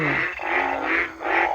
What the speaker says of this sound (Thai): เอาเสียงอึ่งมาให้ฟังโพตาขาวอยู่พุ่นกระดานพุ่น